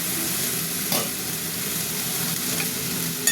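Steady hiss of vegetables frying in a pan as cooked rice is tipped in for mixed fried rice, with a few soft scraping stirs and a clack near the end; no voices.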